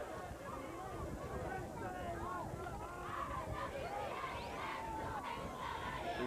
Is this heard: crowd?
yes